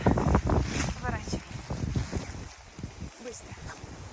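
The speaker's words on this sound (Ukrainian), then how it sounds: "то що вітряно тут в горах це факт." Strong mountain-top gusts of wind in San Marino buffet the microphone outdoors, rumbling and roaring unevenly while a person talks through it.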